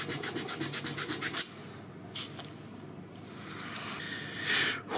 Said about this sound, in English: Now just to clean it up with the sandpaper.